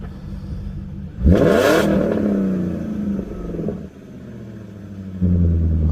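A 2000 BMW E39 540i with the M62 4.4L V8 blips briefly, then settles into a smooth, steady idle close by, its low even rumble dipping slightly before rising again near the end.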